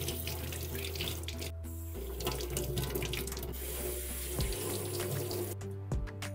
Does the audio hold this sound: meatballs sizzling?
no